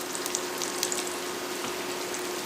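Clarified butter sizzles in a frying pan, a constant close hiss sprinkled with small pops, with no voices.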